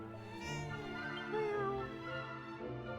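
A cat meows in Dragon Quest VII Reimagined, a drawn-out, wavering call set against soft game music.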